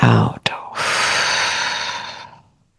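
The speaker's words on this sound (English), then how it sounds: "Take a deep, slow breath in. And a slower breath out." A deep slow breath during a guided calming exercise: a short sharp inhale, a brief pause, then a long, steady, airy exhale that fades out, close and quiet, with no talking.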